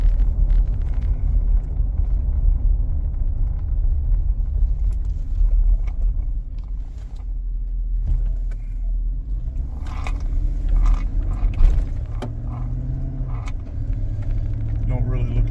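Low, steady road rumble and engine drone fill the cabin of a 2012 Chevrolet Silverado truck on a test drive with ABS, traction and tire-pressure warning lights on, with occasional rattles and someone speaking over it.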